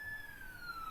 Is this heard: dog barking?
no